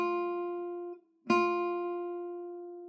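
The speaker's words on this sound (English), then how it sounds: "that presents the fingernail straight on to the string" A single classical guitar note, plucked with the fingernail meeting the string straight on, rings and fades, then is plucked again with a sharp attack and a long sustain, close and alone.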